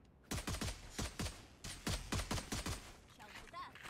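Rapid bursts of gunfire from the mobile game Valorant Mobile, clustered volleys of sharp shots repeating through the clip, loud and close, with faint sound effects trailing off at the end.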